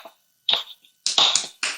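Someone claps hands at a podcast recording, a few sharp, close claps in a short uneven burst, with a quick double clap near the middle and no talking over them.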